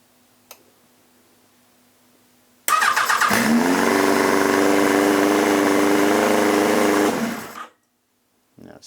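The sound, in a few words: Yamaha XJR1300 motorcycle engine revving high at idle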